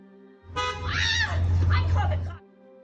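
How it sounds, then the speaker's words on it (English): A car horn sounds at a gas station as one sustained honk of about two seconds, loud and close, with the tone wavering slightly, while voices can be heard around it. "As the car horn honks"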